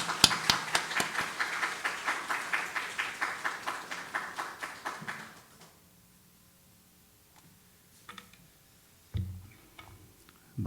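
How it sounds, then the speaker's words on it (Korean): Church congregation applauding to welcome the pastor, a steady run of quick claps for about five seconds that stops abruptly and leaves a near-silent room with a few faint knocks and shuffles. "우리 박수로 환영하도록 하겠습니다"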